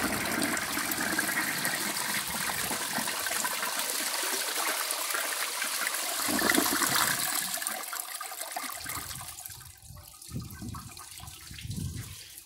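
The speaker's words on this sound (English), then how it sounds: "It's a terrible flush" A 1994 Peerless Hancock toilet, patched with tape, flushes in a long rushing gush of water that roars steadily, then tapers into gurgling and bowl refill sounds, close and fairly loud with no talking.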